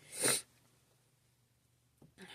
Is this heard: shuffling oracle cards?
no